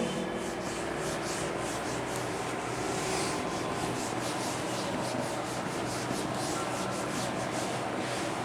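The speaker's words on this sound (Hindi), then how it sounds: "मैं इसको रब कर रहा हूँ" Erasing writing from a board in a maths classroom, a continuous dry rubbing with quick repeated back-and-forth strokes, close and fairly quiet, with no voices.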